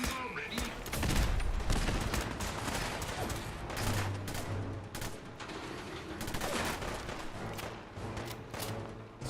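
Cannons and gunfire in the video game Fallout 4 during a battle at Bunker Hill, a dense volley of sharp booms and cracks clustered at the start and again midway, loud and close, with a voice speaking briefly.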